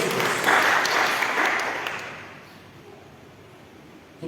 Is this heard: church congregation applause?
yes